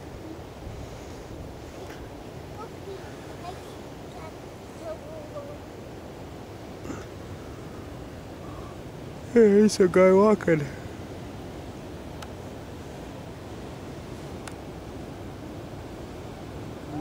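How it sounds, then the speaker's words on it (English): Ocean waves make a continuous broadband roar of surf mixed with wind buffeting the microphone, steady throughout, with a brief spoken remark partway through. "Waves are big out there today."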